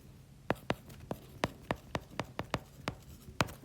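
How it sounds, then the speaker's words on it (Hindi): A pen writes by hand on paper during a criminal procedure law lecture, about a dozen quick, sharp strokes in an uneven rhythm, close and quiet with faint background noise. "एक सेकंड में इसको लिख देता हूं"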